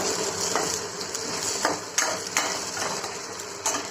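Spices, turmeric and chili powder, being stirred into raw mango sambar in a pot, with a steady soft scraping and sizzle punctuated by several sharp clinks of a spoon against the vessel, close and alone.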